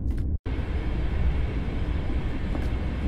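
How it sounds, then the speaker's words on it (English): A train rolls along inside a horror video game, a loud, steady low rumble of wheels and carriage noise that briefly cuts out before carrying on without talk. "we're gonna keep going forward in this train"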